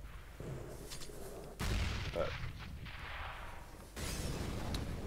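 Tech-9 pistol gunfire in a Counter-Strike match on the Cobblestone map, heard as loud, dense bursts of shots over continuous game noise, with a sharper burst near the middle and another near the end.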